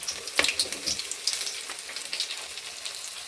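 A spoonful of asafoetida drops into hot oil with cumin and browned garlic, giving a quiet, crackly sizzle with scattered sharp pops that settle into a soft, steady fry.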